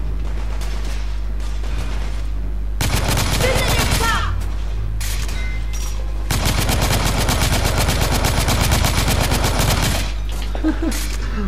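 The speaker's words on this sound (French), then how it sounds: "Le tir en rafale." Rapid bursts of automatic gunfire from the video game The Order: 1886 rattle loudly in two long stretches, separated and bracketed by quieter moments of mechanical clicks and ambience.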